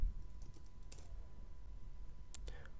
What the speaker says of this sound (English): For the password, type in the password you selected when you created the account on our servers.